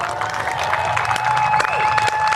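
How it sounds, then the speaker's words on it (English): Crowd at a no-prep drag race at Empire Dragway cheers and applauds for a racer, a steady wash of clapping and cheering over a busy outdoor background, with a voice audible faintly in the mix. "Everybody, let's give Lizzy a round of applause."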